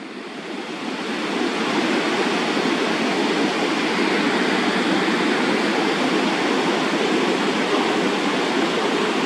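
Ocean tide at the shore during a near six-foot high tide, heard as a steady, dense wash of surf and moving water that swells in over the first seconds and then holds loud and unbroken.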